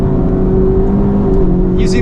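A 2023 Honda Civic Type R on RE-71RS tires lapping a track, heard from the cabin as a loud, steady engine drone that holds level throughout, with a brief higher whir near the end.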